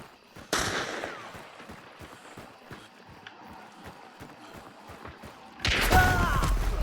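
A sharp video-game gunshot cracks out near the start, followed by quiet mechanical clicking, then a second loud burst of noise near the end.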